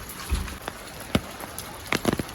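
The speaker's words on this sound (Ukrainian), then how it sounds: "Ага, Мафін, тут дощик." Rain falling outdoors during a walk under an umbrella, scattered drops tapping faintly on the surface with a soft steady hiss, close and quiet.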